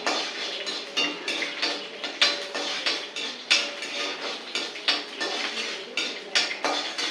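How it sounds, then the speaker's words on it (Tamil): Chana dal being dry-roasted in a pan for tomato chutney, with steady rhythmic scraping and clinking of a spoon against the pan, close and even, repeating about twice a second throughout. "அதனால இப்போ நான் கடலைப்பருப்பை போட்டு வறுக்கிறேன்"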